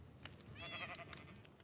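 Faint sheep bleating at a farm, a few short wavering calls near the middle of a quiet stretch with low background noise and no talk.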